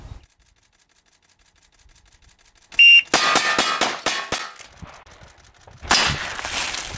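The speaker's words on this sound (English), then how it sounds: "we're going to try it with the 1911 GSG from American Tactical. I'm just going to rip a few shots" A 1911 GSG pistol from American Tactical fires a rapid string of sharp, loud shots that ring out close together, followed by a brief lull and another burst of noise, with no talking.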